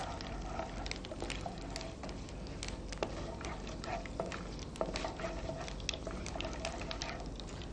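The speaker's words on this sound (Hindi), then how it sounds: "इस गरम तेल के अंदर थोड़ी राई, सौंफ, मेथी और कलौंजी डालें।" Mustard, fennel, fenugreek and nigella seeds sizzling in hot oil, a steady close hiss with scattered crackles and pops and some stirring scrapes, no talking.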